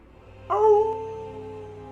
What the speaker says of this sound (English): And in the distance you hear a howling